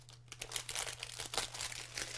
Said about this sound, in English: Put these plastic bags over here to dispose of later